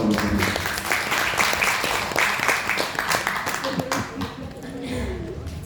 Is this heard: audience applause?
yes